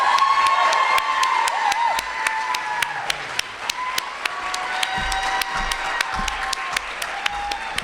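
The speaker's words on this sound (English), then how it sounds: "So please make some noise for Mr. David Offit." Audience applause and cheering at a musical theater performance, a dense steady wash of clapping from a crowd with scattered whoops, loud and continuous throughout.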